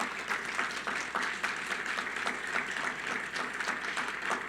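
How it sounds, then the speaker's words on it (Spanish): A church congregation applauds loudly and steadily, a dense, continuous wash of clapping from many hands filling the room without a break. "Si le va a aplaudir, apláudale fuerte al Señor"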